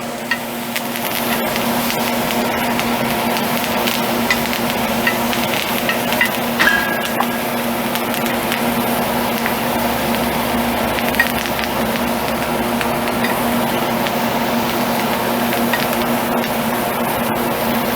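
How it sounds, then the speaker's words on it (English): A kitchen exhaust fan runs steadily as a constant broadband whoosh with a low hum, with faint sizzling and clatter from cooking mixed in throughout. "And turn on my fan."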